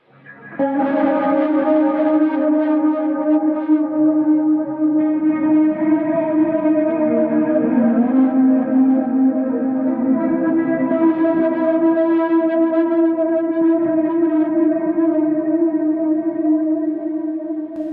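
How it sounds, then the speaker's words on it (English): Lush ambient electric guitar swells from a Mixwave Spiritbox amp sim preset, drenched in reverb and echoing delay placed before the amp, sustained chords blooming and overlapping continuously at steady volume. "the reverb and both the reverb and the delay are in front of the amplifier"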